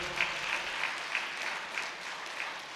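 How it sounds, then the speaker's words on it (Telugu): Audience applause at a spiritual gathering, a steady, moderately distant patter of many hands clapping with small swells, no talking over it. "గట్టిగా చప్పట్లు కొడదాం"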